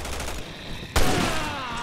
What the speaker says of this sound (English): Ah, Jesus, who's shooting at me?